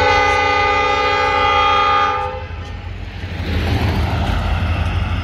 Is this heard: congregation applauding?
no